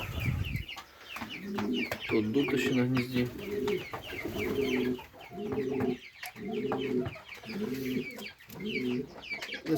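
Pigeons in a dovecote cooing in repeated rhythmic phrases, close and steady, with someone speaking intermittently in the background.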